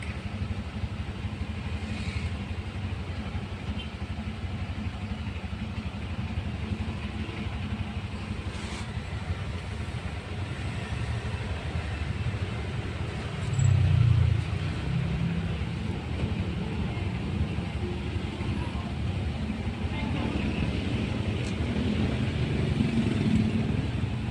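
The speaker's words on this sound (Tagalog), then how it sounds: "Traffic." Road traffic at a busy junction heard from inside a tuktuk, a steady engine rumble and road noise that holds throughout, with a louder surge midway, faint clattering and occasional distant vehicles.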